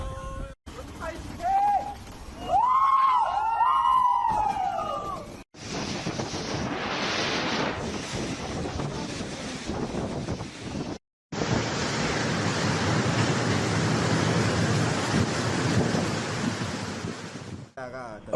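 Roaring wind and crashing surf from Super Typhoon Yagi striking the southern China coast, a dense, loud, continuous wash of storm noise with brief cuts between segments and some voices early on.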